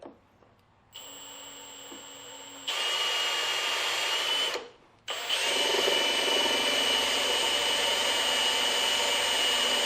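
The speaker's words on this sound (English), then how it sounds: "we're just going to drill a hole in it with a 1/2-inch bit." A power drill with a 1/2-inch bit whirs steadily, starts and stops, then bores at full speed with a loud, sustained high whine; no talking.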